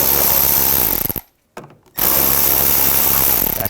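An 8mm socket on a power tool zips out bolts from the transmission oil pan of a 2006-2010 BMW 550i 4.8L V8; loud, close whirring runs stop briefly, then resume in a second steady burst.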